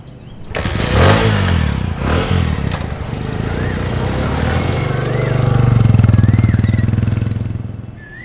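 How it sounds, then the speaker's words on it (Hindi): A motorcycle engine running nearby, with a steady chugging idle that swells and revs up toward the end before easing off, heard in a street setting. "ये ले बाइक ले जा।"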